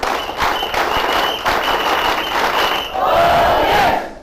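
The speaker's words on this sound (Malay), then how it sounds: "Saya juga ingin meminjam tepukan tuan-tuan dan perempuan lah supaya beri saya lebih semangat" An audience at a talk claps and cheers together, a loud sustained burst of applause with rhythmic clapping that swells toward the end.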